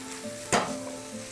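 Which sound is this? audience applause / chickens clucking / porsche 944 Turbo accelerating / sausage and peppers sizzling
sausage and peppers sizzling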